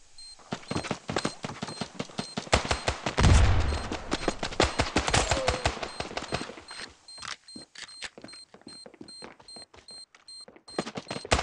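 Bomb blast and gunfire in the mobile shooter Standoff 2: dense, rapid bursts of shots throughout, with a heavy low explosion boom about a third of the way in, then continuing scattered fire.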